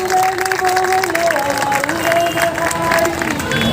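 A crowd at a teachers' protest sit-in claps together, a dense sustained patter of applause with a few shouts, while a voice carries over it through a loudspeaker.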